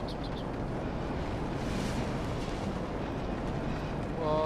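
A deep, rumbling explosion in the Dark Souls II: Scholar of the First Sin video game fills the clip with a dense, sustained roar, swelling slightly around the middle and at the end.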